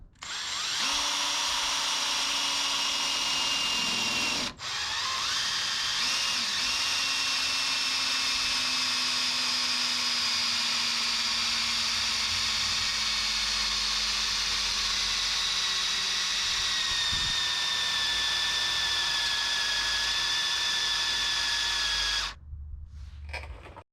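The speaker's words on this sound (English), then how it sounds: "So I got the drill. I'm hopefully gonna drill this thing out." A power drill whines steadily for over twenty seconds while boring out a snapped bolt on a vehicle cross member during a rock slider install, its pitch sagging under load with a brief pause early on.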